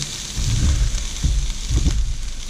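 Freshly sliced mushrooms go into a hot pan with coarsely chopped onions for a Philly cheese steak, sizzling steadily up close with soft stirring and shuffling bursts, and no talk.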